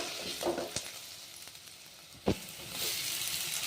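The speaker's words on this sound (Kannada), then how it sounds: "ಟೊಮೆಟೊ ಹಾಕ್ತಾ ಇದ್ದೀನಿ." Chopped tomato goes into a pan of frying spinach gravy with onion and ginger paste: a soft sizzle with a few sharp clinks and a louder splash-like burst, then the frying hiss swells near the end.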